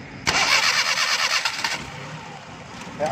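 A Suzuki Bolan engine with timing problems, converted from points to magnetic ignition, cranks and catches, then settles into a steady idle, close by.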